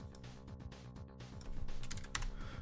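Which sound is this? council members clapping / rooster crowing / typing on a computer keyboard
typing on a computer keyboard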